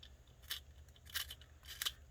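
A small pencil sharpener shaves a pencil in three crisp, scratchy bursts spaced evenly, close up and quiet, with no talking.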